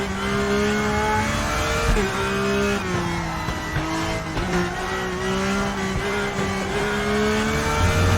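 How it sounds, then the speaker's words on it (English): A car engine revs hard and loud without pause while drifting on the Nürburgring, its pitch rising and dipping as the throttle is worked. "this car just absolutely beating its engine up to give me some speed."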